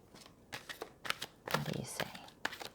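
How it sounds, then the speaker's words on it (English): A deck of tarot cards is shuffled a couple of times, giving soft, quick riffling bursts at low volume, close up, with a quiet voice in between. "I'm just going to do a couple shuffles here and then pull from the top"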